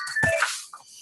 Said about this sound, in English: that's my phone that shouldn't be in this room